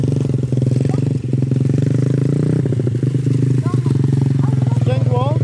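Motorcycle engine running steadily with a low, constant drone and some clatter while a rider is coached during a riding lesson; a person talks over it throughout.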